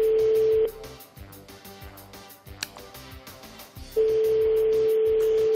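A telephone ringback tone plays during a call: a steady, loud, continuous tone, broken by a few seconds of clattering noise, then resuming on its own.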